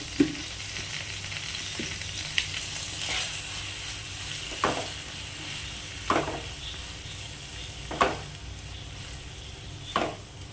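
Onion and tomato with salt sautéing in a pan for egg curry, a steady close sizzle with periodic louder scrapes and stirs of a spatula every couple of seconds, no voices.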